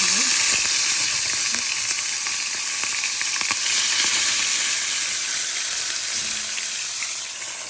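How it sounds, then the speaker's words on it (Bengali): Prawns wrapped in gourd leaves frying over medium-low heat in a pan give a loud, steady close sizzle that eases slightly toward the end, with faint occasional clinks. "এখন এগুলো আমি ভাজবো তো মিডিয়াম টু লো হিটে আমি হচ্ছে আমার চিংড়ি ভাজবো"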